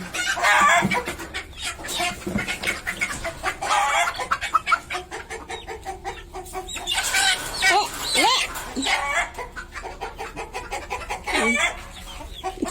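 Many chickens cluck and chatter continuously nearby, a busy overlapping flock with occasional louder squawks and voices talking in the background.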